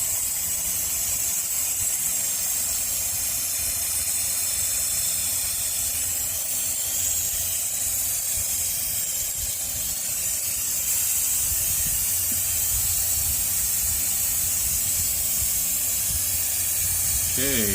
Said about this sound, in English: let's crack this valve.